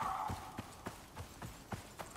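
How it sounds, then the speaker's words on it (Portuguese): A horse in the survival video game Icarus clops along in a steady run of about eight hoof beats, distinct but fairly soft, with no talk over it. "Ó, tem um cavalo já ali, ó."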